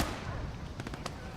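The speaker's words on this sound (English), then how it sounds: "Let's make sure that gun's able to get some hits on that Panzer over there before he finds him." In Call to Arms - Gates of Hell, an anti-tank gun fires on a Panzer III: a few sharp, fairly distant shots crack in quick succession near the end, over a steady rumbling battlefield din.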